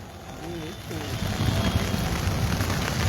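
Heavy rain that has been falling since the day before pours down as a dense, constant hiss, with a voice speaking over it.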